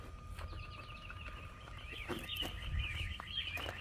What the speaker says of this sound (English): Well, the birds sure are chirping, aren't they?